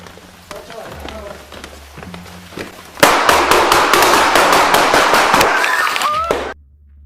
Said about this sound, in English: In the chaos, officers returned fire